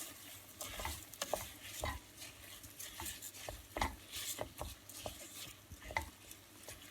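Yellow rice with onion and tomato sauce being stirred in a pot, with scraping spoon strokes at an irregular rhythm over a soft background sizzle, close and moderately quiet.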